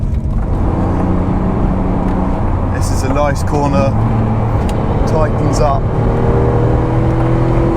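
A Noble M12 GTO-3R with a 3-litre twin-turbo V6 being driven, its steady engine drone and road noise running continuously beneath someone talking throughout.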